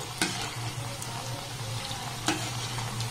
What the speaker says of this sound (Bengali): লো টু হালকা মিডিয়াম দিয়ে এগুলোকে ভেজে নিতে হবে